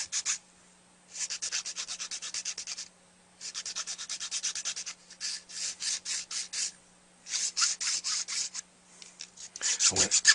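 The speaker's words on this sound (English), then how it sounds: "what I'm going to do is trim the tip back just a little bit" A file works back the leather tip of a billiard cue in short bursts of quick rasping strokes, about five runs separated by pauses, close and clear with a faint steady hum underneath.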